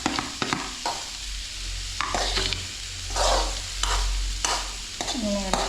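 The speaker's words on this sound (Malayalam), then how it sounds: "ഇതിൽ ഇളക്കിയിട്ടൊന്ന് നോക്കാം" Peperomia pellucida thoran with ground paste sizzles softly in a pan as a spoon stirs it, leaving several distinct scraping strokes over a low, steady fry, close and without talk.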